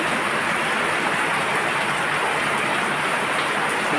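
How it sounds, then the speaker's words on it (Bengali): Heavy rain pours down in a steady, dense hiss that holds without a break for the whole stretch, with no voices. "এই যে দেখতেই পাচ্ছ প্রচণ্ড বৃষ্টি"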